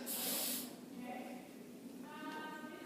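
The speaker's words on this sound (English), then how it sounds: "you're going to do a hairspray over the whole thing, especially from the front" Hairspray sprayed over teased hair, a short close hissing burst at the start followed by softer airy background noise.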